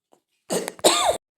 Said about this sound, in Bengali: ভিডিওটা এডিট করার সময় এত কাশি হয়েছে মানে কাশিটা কন্ট্রোল করতে পারিনি